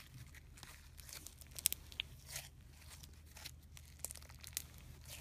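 Crunchy slime mixed with beads is squished and pressed, making faint, close crackling and crinkling crunches in small irregular bursts.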